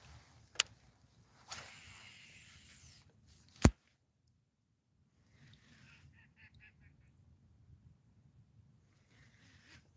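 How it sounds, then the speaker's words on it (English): A duck quacks in a quick series as it flies past a lake during bass fishing, a faint, brief burst in otherwise quiet outdoor air, preceded by a few sharp clicks and rustles. "Did you guys hear that duck go by and go whack, whack, whack, whack, whack, whack, whack?"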